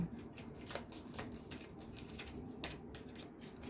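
Tarot cards being shuffled close by at low volume, making soft rapid riffling and slapping bursts at irregular intervals with no voices.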